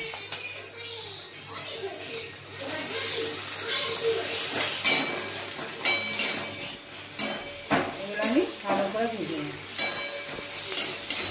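Two chopped onions, torn green chillies and a tomato fry in hot oil in a pan, with a steady sizzle, repeated scraping and stirring of a metal spoon, and light clinks of cookware.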